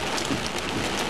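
A brief burst of hail falling in a severe thunderstorm: an unbroken, loud wash of close impacts and rain-like hiss, with no talking.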